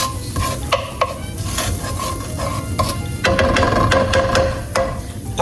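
Meat frying in bacon grease in a pan, a steady loud sizzle broken by clattering stirs and scrapes of a utensil, close by, with no talking.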